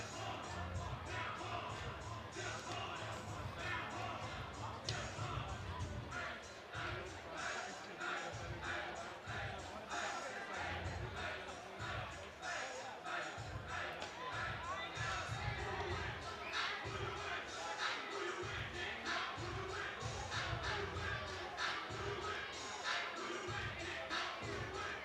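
Crowd at a college softball game between Oklahoma and Sam Houston: a low, steady murmur of spectators with scattered thumps and claps, quiet and distant beneath nearby voices talking.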